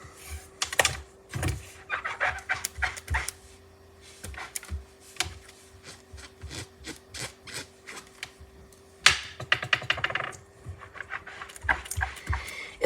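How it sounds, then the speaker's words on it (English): A die cutting machine running stamped card pieces through for a floral card project: a steady motor hum under rhythmic rubbing, rolling bursts that repeat through the run, close by and without speech. "we will get them die cut"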